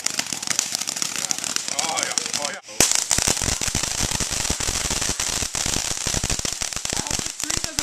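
Backyard fireworks during a July 4th celebration crackle and pop in rapid bursts, loud and dense, with a short gap before a sharp burst and more crackling; people talk excitedly throughout.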